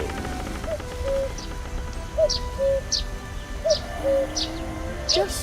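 A cuckoo repeats its two-note call several times at a steady pace, clear but somewhat distant, over a soft patter like rain and a few high chirps.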